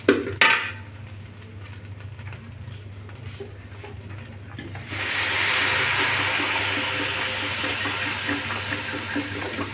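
Water is poured into a pot of rice and lentils that were fried with onions and green chillies for khichuri, a steady rushing hiss and patter starting midway and continuing to the end after a quieter stretch.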